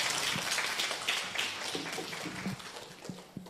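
An audience at a live event gives a round of applause with scattered, moderately distant clapping. It stays steady at first, then thins into a few separate claps.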